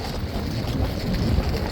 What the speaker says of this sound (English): Despite the wind, which is super, super, super annoying.